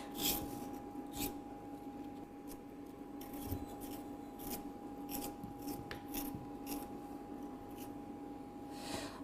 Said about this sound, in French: Voilà, donc on a des carottes qui sont maintenant épluchées.